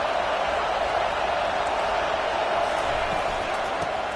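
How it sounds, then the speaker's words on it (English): A football stadium crowd roars during a third-down play, a dense, steady wall of noise at constant high level, with commentary talk under it. "Decibels rising as the crowd gets behind this defense on 3rd down."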